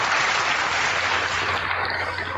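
Applause from an audience at a church gathering, a steady dense wash of clapping filling the whole stretch without pause, fairly loud and even.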